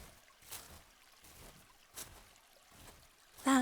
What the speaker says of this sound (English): Do you hear the waves? We're following the stream.